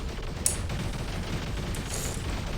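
Sonic weapons on robots such as the Evora, Veyron and Titan fire nonstop in a video game, a dense, steady crackling barrage with one sharp burst near the start.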